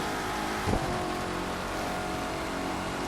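Corvette C7 ZR1 convertible in the racing game The Crew 2, its engine roaring steadily under nitro boost, a loud continuous drone with no talk over it.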